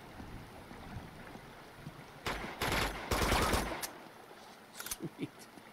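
Gunfire in Uncharted 2: Among Thieves comes as a few short, loud automatic bursts in the middle, followed by scattered single shots, over a quiet outdoor ambience.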